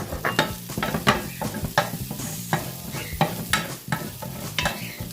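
Fresh garlic sizzling in olive oil in a pan still holding residue from fried meat, with a steady crackle broken by repeated stirring scrapes and clinks at a brisk rhythm.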